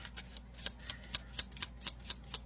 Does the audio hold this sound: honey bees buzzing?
no